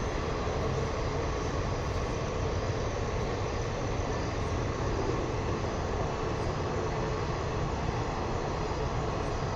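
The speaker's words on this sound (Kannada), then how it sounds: "ಆ ಟ್ರೈನ್ ಸೌಂಡ್." A passing train heard near a disused factory site, a loud, continuous broadband rumble and roar holding steady throughout with no voices.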